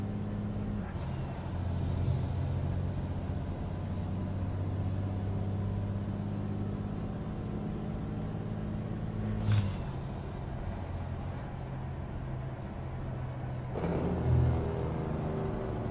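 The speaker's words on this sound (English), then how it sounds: "Jake brake sounds excellent on this truck as well" A Kenworth K100 truck in American Truck Simulator growls steadily at low pitch while its Jake brake engages, with a sharp air hiss near the middle and another burst near the end. No voices are present.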